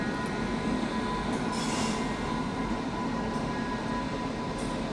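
Garib Rath Express train being switched onto a station loop line near Ghaziabad, heard as a steady, continuous rumble of rolling stock with faint metallic wheel squeal and no talking.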